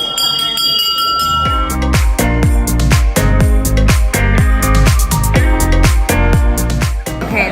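A bell rung over and over to announce a food course at a meal in Florence, Italy, giving a long run of loud, bright, evenly paced metallic strikes whose ringing tones overlap.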